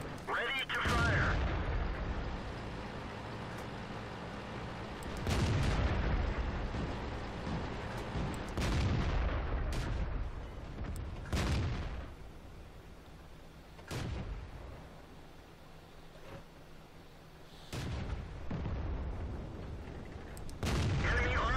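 Heavy cannon shots from an SU-100 tank destroyer in World of Tanks, several loud booming blasts spaced irregularly a few seconds apart, each trailing off in a rumbling decay over game ambience.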